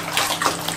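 A growing child splashes hard in bathtub water, producing a dense, loud, continuous sloshing and spattering burst heard up close.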